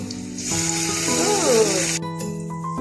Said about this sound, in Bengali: একটু আদা, একটু রসুন লাল করে ভেজে নেব আমরা।